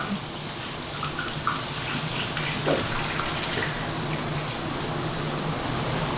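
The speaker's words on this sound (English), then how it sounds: "We're going to strain these beans. And then we're just going to rinse them." Canned beans being strained and rinsed under running tap water make a steady, continuous splashing hiss that holds evenly throughout, close by and fairly loud.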